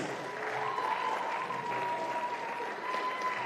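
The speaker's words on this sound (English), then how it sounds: "big round of applause to Piedro Schweertman and Scott Gillanders" Steady applause from a crowd at a squash match fills the moment, a dense, even patter of clapping without pauses.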